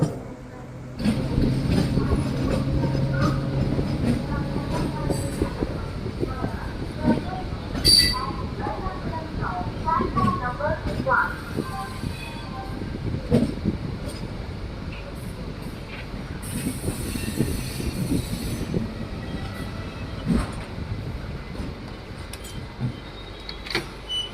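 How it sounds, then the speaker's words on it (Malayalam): The Parasuram Express, running from Kanyakumari to Mangaluru Central, pulls away from platform 2 of Ernakulam Town railway station. Steady rolling rumble and clanking of the carriages, occasional wheel squeals and clicks, with a voice talking over it. "നമ്മുടെ ട്രെയിൻ അങ്ങനെ ഇപ്പോൾ എറണാകുളം ടൗൺ റെയിൽവേ സ്റ്റേഷൻ്റെ 2ാമത്തെ പ്ലാറ്റ്ഫോമിൽ നിന്ന് ഇപ്പോൾ വീണ്ടും പുറപ്പെട്ടിരിക്കുകയാണ്"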